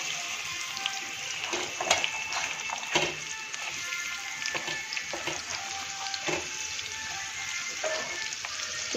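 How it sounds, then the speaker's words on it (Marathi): Onion frying in a pan for a paneer masala, a close, steady sizzle with occasional sharp pops and crackles, moderately quiet and without any voices. "मी ह्याच्यात कांदा टाकून घेते। कांदा भाजून घ्यायचा आहे।"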